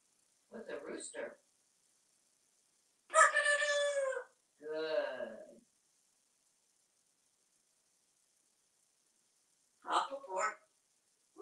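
A parrot imitating a rooster crowing, several separate crow-like calls with pauses between them in an otherwise quiet room.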